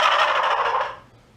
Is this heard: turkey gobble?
yes